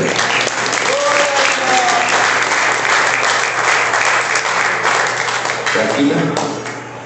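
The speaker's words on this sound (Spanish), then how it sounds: "Aplausos a Jesucristo y gracias a Jesús." Applause from the congregation at a deliverance seminar in Freehold, New Jersey, a dense sustained clapping filling the room, with voices speaking over it before it fades at the end.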